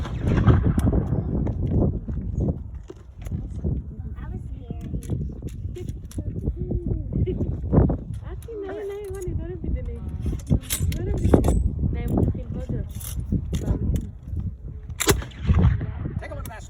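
A historic musket fires at a Fort George demonstration with a sharp blast amid outdoor noise, while people talk around it and clicks and handling sounds come and go.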